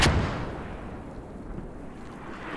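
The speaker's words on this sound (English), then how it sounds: "We got friendly forces inside this artillery strike." A loud explosion from an artillery strike in a video game opens with a sharp blast, then a long rumbling decay with scattered distant booms rolling on underneath.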